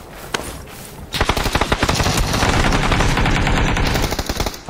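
Loud, rapid automatic gunfire from the video game PUBG played on PC, a few isolated shots at first, then a sustained fast burst of shots that continues to the end.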